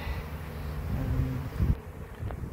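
Honeybees buzz around an open hive built in a stack of tyres, a faint low droning hum with brief passes of individual bees close to the microphone, against light wind.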